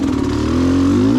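Enduro motorcycle engine held at low revs while climbing a hill over wet tree roots, a loud, steady close-up drone with a slight rise toward the end.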